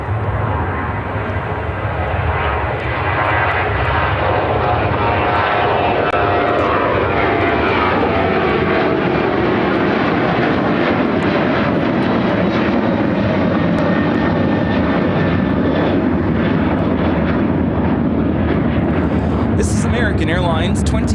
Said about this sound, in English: 2359 taking off to Seattle on the 737-800.